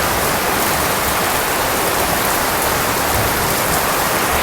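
Heavy rainy-season downpour in a green rural province, a loud dense unbroken roar of rain pouring close by, steady for the whole stretch with no voices.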